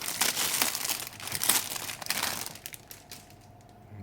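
Plastic packaging of an Entry Grade Strike Gundam model kit is torn open and crinkled up close, a loud continuous crackling rustle that fades to quieter handling toward the end.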